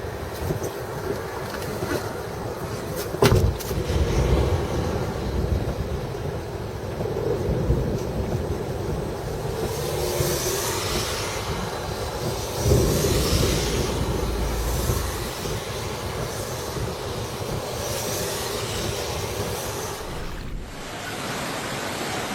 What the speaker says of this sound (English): encountering an EF4 tornado slamming into your city